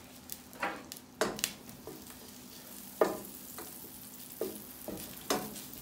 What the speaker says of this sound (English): Let the butter melt.